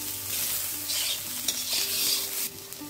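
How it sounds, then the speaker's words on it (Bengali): Capsicum and peas fry in a pan for cauliflower rice, a steady close sizzle with stirring scrapes that swell and ease, no voices present. "এবার এই ক্যাপসিকাম আর মটরশুঁটিটাকেও ভেজে নেব"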